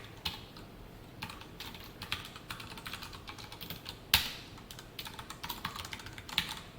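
Keystrokes of someone typing Java code on a computer keyboard, a steady run of quiet clicks in irregular bursts with a couple of sharper, louder key hits, close and alone with no talking.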